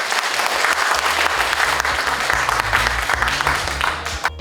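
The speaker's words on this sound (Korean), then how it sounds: "좀 박수 한번 좀 보내주셨으면 좋겠습니다" An audience at a Liberty Korea Party policy announcement breaks into loud, sustained applause, a dense wash of clapping filling the room for several seconds before tapering off.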